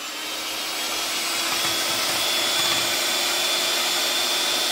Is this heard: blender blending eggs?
yes